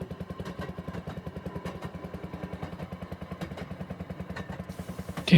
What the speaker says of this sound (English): This is a different speeder altogether. I think it's an N&W.